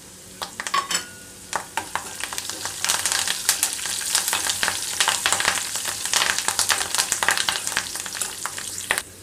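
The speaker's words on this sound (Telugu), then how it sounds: "ఇప్పుడు ఇందులో కరివేపాకు కూడా యాడ్ చేసుకుంటున్నాను." Curry leaves fry in hot tempering oil for a gongura chutney, crackling densely and continuously with rapid pops over a strong sizzle that grows busier after the first seconds, close up with no voices.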